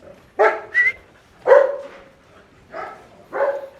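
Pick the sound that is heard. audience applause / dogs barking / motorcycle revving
dogs barking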